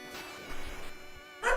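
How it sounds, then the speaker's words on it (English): Dogs barking indoors behind a closed door, a few muffled barks at moderate distance ending in a louder, closer burst. "I have no idea what they're barking about."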